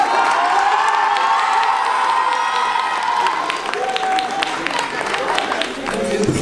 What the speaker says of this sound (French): Est-ce qu'on peut l'applaudir bien fort, Angélie Tran?